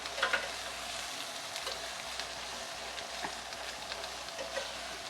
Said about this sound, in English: We're going to give the onions just a quick saute.